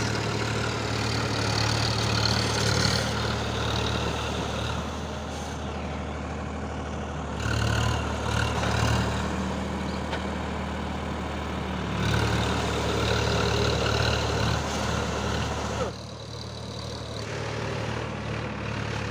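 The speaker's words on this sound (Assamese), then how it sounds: "এয়া একদম পুৰা ট্ৰেক্টৰ সোণালিকা" Sonalika tractor doing a stunt, its engine droning steadily and fairly loud, with the pitch and intensity changing a few times while it works continuously.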